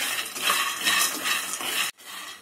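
Peanuts are stirred and roasted in a kadhai over a gas flame, giving a continuous close rattling scrape that cuts off abruptly near the end.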